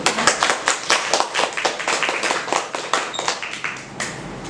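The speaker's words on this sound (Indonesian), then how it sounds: "Mari kita berikan tepuk tangan untuk teman." A classroom of students claps together in a quick, steady run of sharp hand claps that last several seconds and fade toward the end.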